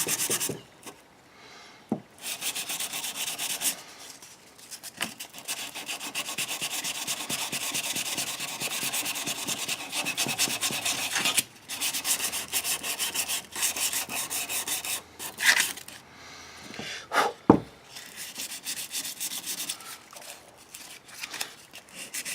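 Close, continuous sanding by hand on a Condor Nessmuk knife to smooth factory imperfections, a steady scratchy rubbing with a few pauses and brief knocks.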